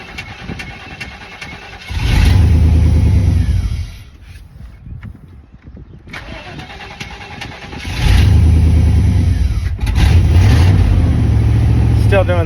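A Chevy truck engine running rough while the gas is feathered, with two loud, close surges of revving separated by a quieter, uneven idle lull.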